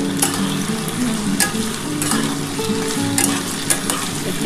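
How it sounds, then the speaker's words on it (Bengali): Malabar spinach stems frying in a pan, a continuous close sizzle broken by repeated sharp scraping strokes as they are stirred, with some faint tonal background hum and no talking. "এবার এটা একটুখানি ভালো করে লাল লাল করে ভাজবো আমি"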